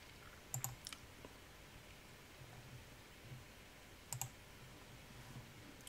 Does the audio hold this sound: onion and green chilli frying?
no